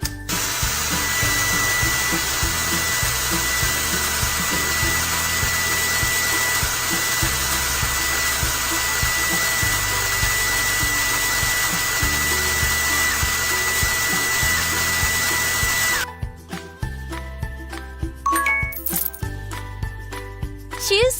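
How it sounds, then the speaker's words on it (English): A hair dryer in a kids' preschool hair-styling video game blows with a loud, steady whoosh for about sixteen seconds, then cuts off into scattered chimes and game effects. "Use the hair dryer."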